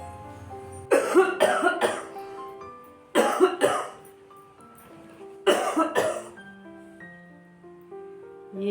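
An elderly grandfather coughs in three loud, close clusters of harsh hacking bursts separated by quieter pauses, with faint tonal background sound in between.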